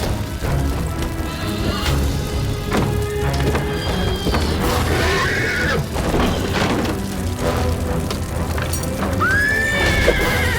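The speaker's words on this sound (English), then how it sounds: "Starring Jenny Garth and Bradley Cooper, the drama tightens up when the stable catches fire and they rush to protect what is precious to them both" Horses in a burning stable in a dramatic film scene, whinnying and neighing repeatedly over clattering hooves, crashes and a dense, loud background of chaotic noise.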